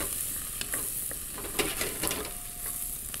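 Mushrooms stirred in a hot pan for chicken risotto, a continuous sizzle and frying hiss with scattered scrapes and clicks of the utensil against the pan, close and steady with no voices.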